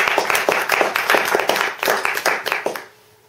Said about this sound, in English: can you please give a round of applause to Graham Joyce?